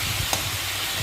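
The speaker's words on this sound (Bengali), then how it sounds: "মশলাটা দেখুন ভালো করে কষিয়ে নিচ্ছি।" Spice paste sizzling in hot oil while being stirred in a pan, a loud continuous close frying hiss with soft spoon strokes and a small tap.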